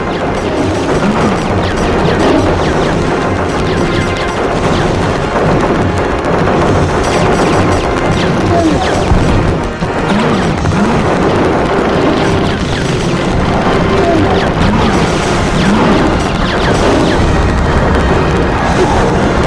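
Continuous heavy booming and crashing roar in the video game Robocop 2D 3, loud and dense, like a long chain of explosions rumbling without pause.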